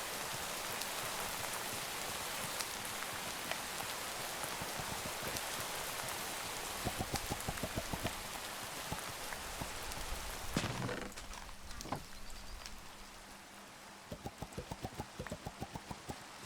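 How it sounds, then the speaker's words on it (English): Steady rain pours in the Minecraft video game, a dense continuous hiss lasting throughout, with faint rhythmic clicking taps in the latter half as the downpour thins slightly near the end. "Because it's rainy."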